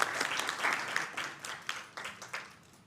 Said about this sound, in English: a round of applause for Sean Rooney and his work.